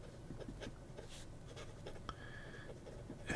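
A Lamy fountain pen with a broad nib and dark green ink writes on thin Tomoe River paper, giving faint, quiet scratches in short strokes with small pauses between them.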